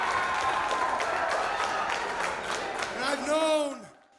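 Applause from a crowd at an independent wrestling show in the Intermountain West, a dense steady clatter of many hands that swells near the end while a voice rises over it and then fades out.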